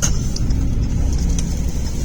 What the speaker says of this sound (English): I think it was the truck